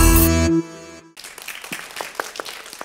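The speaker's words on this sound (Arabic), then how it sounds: "إذا صفقوا على نور الهدى." Applause for Nour El Houda on a children's TV show: scattered, light hand clapping from a small audience, starting after a sustained musical tone fades.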